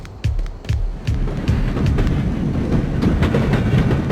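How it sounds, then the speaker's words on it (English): A subway train in the Wrestling Empire video game rumbles past with loud, continuous clattering and rhythmic clickety-clack of wheels over rail joints, building steadily in intensity. "taking it out to the subway"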